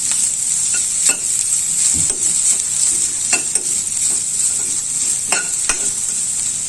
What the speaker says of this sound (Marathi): तर खोबऱ्याचा थोडा रंग बदलेपर्यंत, म्हणजे थोडंसं ब्राउनिश होईपर्यंत मी हे भाजून घेते